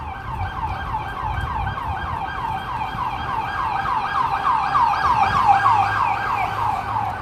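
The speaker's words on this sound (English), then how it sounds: "It's an undercover police car." An undercover police car on a New York City street near Fifth Avenue wails with a repeating yelp siren, steady and fairly close, its cycles sweeping rhythmically over low traffic rumble throughout.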